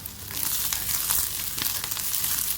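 Dried red chillies fry in hot oil for a fish and tapioca dish, giving a steady, close sizzle with crackling pops throughout and no voices.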